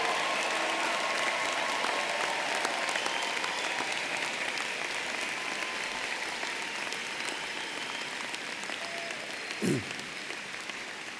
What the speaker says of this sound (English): I think it would be appropriate for one last huge round of applause